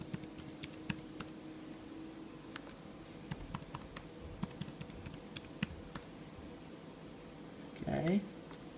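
Quiet, scattered keystrokes of someone typing a password on a computer keyboard, sparse taps in a faintly humming room, ending in a brief louder rustle.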